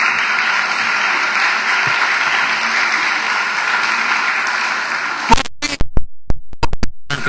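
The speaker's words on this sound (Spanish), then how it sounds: "Denle un aplauso al Señor" A church congregation applauds steadily for about five seconds during a Spanish-language sermon, a dense broadband wash of clapping that stops abruptly, followed by a few sharp, close knocks and bumps.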